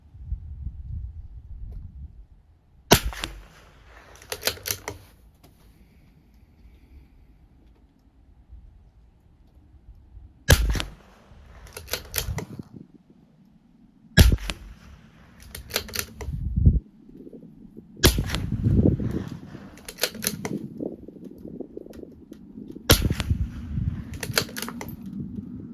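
A CZ457 LRP rimfire rifle fires during a long-range match at 200 yards, with five sharp, fairly loud reports spaced several seconds apart over steady outdoor wind rumble.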